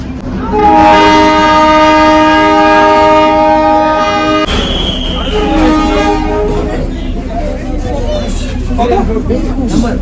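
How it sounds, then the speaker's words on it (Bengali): A Darjeeling toy train pulls into the station sounding a long, loud horn for several seconds, then rail clatter and station bustle continue with people talking nearby. "এই যে আমাদের টয় ট্রেন এসে গেছে"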